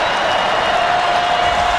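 Football stadium crowd at the Florida State vs Florida college rivalry game cheering and celebrating late in the game, a loud, steady roar of many voices filling the whole clip.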